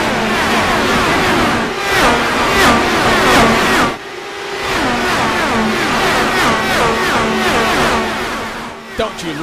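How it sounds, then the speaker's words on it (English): Dallara IR18 IndyCar engines at full power at Pocono in a racing video game, a loud sustained high-pitched whine with shifting pitch and a brief dip midway, with no talk over it. "Don't you love the sound of a Dallara IR18 turned up to the max?"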